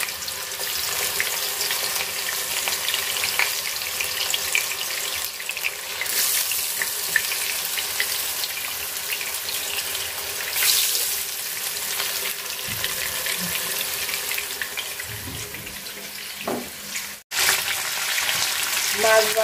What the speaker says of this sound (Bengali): তো এখন মাছগুলো আমি ভাজা নিব, হালকা ভাজবো। তেল গরম হয়ে গেছে আমার